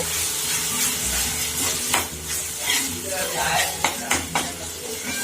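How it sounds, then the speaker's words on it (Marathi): Onion, tomato and coconut masala frying in oil in a pan, with a steady close sizzle broken by several sharp scraping stirs of a spoon. "हा आपण तेलामध्ये चांगला फ्राय करून घ्यायचा तेल सुटेपर्यंत भाजायचं"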